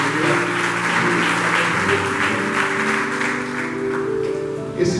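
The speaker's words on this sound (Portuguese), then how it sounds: "Vamos aplaudir bem forte ao Pai e a sua gloriosa palavra." A church congregation claps loudly and steadily, a thick continuous burst of applause with sustained music tones underneath, holding close and full for the whole stretch.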